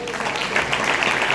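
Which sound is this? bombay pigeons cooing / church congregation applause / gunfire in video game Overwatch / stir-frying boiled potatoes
church congregation applause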